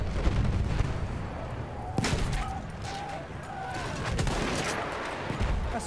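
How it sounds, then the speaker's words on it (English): Machine gun fire and battle noise in the video game Battlefield 1: dense bursts of rapid gunfire and booming shots overlap in a constant loud barrage throughout. "Machine gun!"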